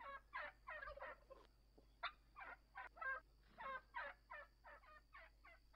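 Wild turkeys gobble in the hunting game Red Cloud: Indian Tribal Wars, a string of about a dozen rapid, warbling bursts in steady rhythm, moderately near and clear over a faint steady hum, with no talking.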